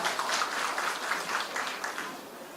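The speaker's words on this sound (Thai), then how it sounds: "ขอเสียงปรบมือให้กับตัวแทนจากบริษัทด้วยครับ" Applause from an audience at a Khon Kaen clean-city award ceremony, honoring a company representative; steady, dense clapping continues loudly for the whole stretch without voices.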